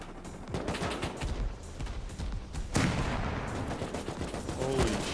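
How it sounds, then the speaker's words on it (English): An MLRS rocket barrage in the Rust survival game: a rapid string of heavy booms and crackling blasts rolling continuously, loud and close, with no talk. "That's a lot of MLRS rockets."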